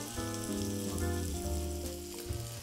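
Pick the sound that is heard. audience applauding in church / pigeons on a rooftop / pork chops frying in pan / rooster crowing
pork chops frying in pan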